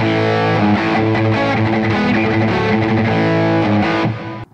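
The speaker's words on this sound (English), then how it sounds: "Add distortion!" A sustained electric guitar chord with heavy distortion rings out loud and close, strummed with a gritty buzzing tone that holds steady before cutting off abruptly.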